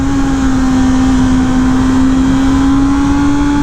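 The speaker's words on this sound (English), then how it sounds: "Dude, inline 4-cylinder screaming." A Honda inline four-cylinder motorcycle engine with an electronic clutch revs hard on a racetrack, holding a loud, sustained, steady high-pitched drone throughout.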